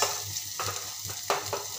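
Spices are sautéed in oil for a spicy bell pepper curry until the oil separates, giving a low continuous sizzle. A couple of louder stirring scrapes break through it, all close by and fairly quiet, with no voices.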